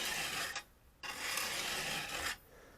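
A wood chisel rubbed back and forth on a sharpening stone gives steady, close raspy strokes broken by a short pause, with no talking.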